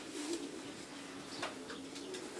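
Racing pigeons coo softly inside a loft, a few low throaty calls over a quiet steady background hum.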